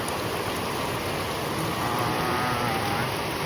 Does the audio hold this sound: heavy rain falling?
yes